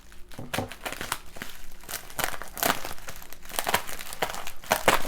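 Bubble wrap around a new Hultafors hunting axe is cut open and crinkled, giving a run of close, irregular plastic crackles and rustles that build in loudness, with no talking.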